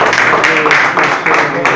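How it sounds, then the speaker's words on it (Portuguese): A church congregation claps for Jesus during a prayer service, a dense wash of steady applause with rhythmic bursts, loud and close, voices mixed in beneath. "Aplauda o Senhor Jesus."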